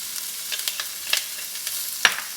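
Sliced onions frying in hot olive oil, with a soft, steady sizzle broken by scattered light crackles and a sharper pop near the end, fairly quiet and with no voices.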